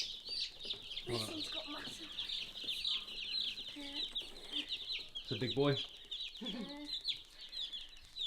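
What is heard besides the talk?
meat chickens clucking in a brooder box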